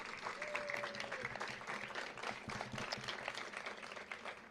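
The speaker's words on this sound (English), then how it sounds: "That deserves a round of applause." A crowd applauds at an outdoor housing groundbreaking ceremony, a dense sustained patter of many hands clapping throughout.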